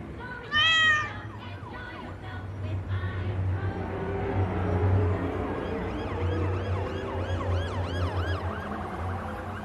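A cat meows in a plaintive, rising cry near the start, followed by softer mewing, while a wavering siren drifts in the distance with a steady low hum underneath.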